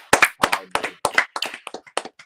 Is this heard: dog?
no